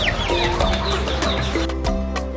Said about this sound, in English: So these are chickens, as you can see.